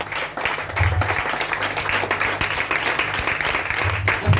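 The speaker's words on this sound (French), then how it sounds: "Acclamons la parole de Dieu." A church congregation at a worship service breaks into applause, a dense, sustained wash of clapping from many hands filling the room, with a low hum and voices faintly underneath.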